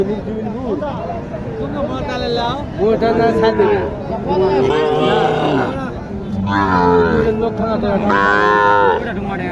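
A Nepali-Sahiwal cross heifer at a cattle market in Naogaon district moos loudly in several long, drawn-out calls close by, with other cattle and crowd chatter behind.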